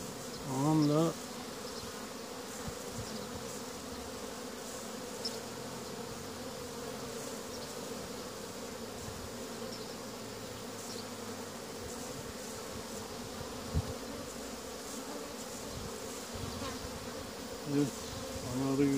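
Honeybees swarm and hum steadily around an opened hive during an April inspection of a comb packed with pollen, a dense continuous buzz held at an even level for the whole stretch, with no talking.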